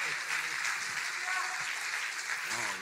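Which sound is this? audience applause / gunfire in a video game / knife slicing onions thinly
audience applause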